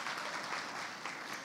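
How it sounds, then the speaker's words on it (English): Dense, steady applause fills a plenary room at a youth energy summit, with many hands clapping continuously and evenly at close range for the whole stretch, no voices standing out. "give him just a round of applause for being here"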